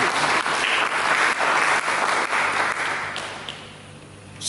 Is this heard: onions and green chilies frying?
no